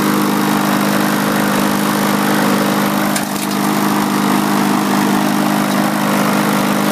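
A free lawn mower salvaged from the roadside, rusty under the deck and a little smoky, runs steadily with a loud, close, unbroken engine drone and no voices.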